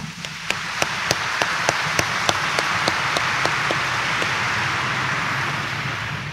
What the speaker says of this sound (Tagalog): mas pumalakpak tayo ng malakas